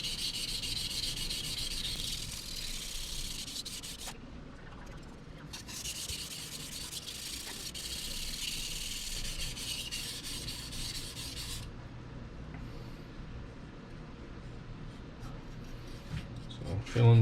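A pipeline steel nakiri knife is stroked across a sharpening stone, a soft close rubbing scrape that repeats steadily, with a faint voice now and then.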